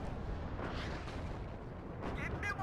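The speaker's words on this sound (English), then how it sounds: "you'll see all the artillery coming in from where that my CV would have been" A WARNO artillery barrage sounds as a continuous, fairly faint wash of distant rumbling impacts, with sharper bursts near the end.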